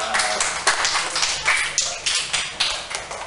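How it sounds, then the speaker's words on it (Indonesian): Pupils in a classroom clap for two classmates, a loose, uneven run of sharp handclaps, fairly close and moderately loud, with scattered voices underneath. "Tepuk tangan untuk Zaki dan anaknya Rafika"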